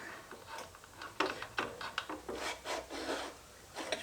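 The swing arm bolt on a Suzuki DR650 is wriggled free of its dry, ungreased bearing, making a series of close, uneven metallic rasps and scrapes.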